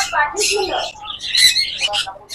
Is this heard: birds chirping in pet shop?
yes